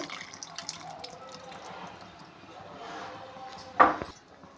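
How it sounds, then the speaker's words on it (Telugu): Tamarind juice is added to a simmering punugulu curry, giving soft liquid drips and trickles followed by one brief, louder splash near the end, with faint kitchen noise underneath. "చింతపండు పులుసు తగినంత వేసుకోవాలండి."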